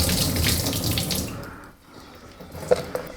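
Tap water runs steadily into soaked basmati rice for cooking rajma chawal, pouring for about a second and a half before stopping, followed by a soft clink.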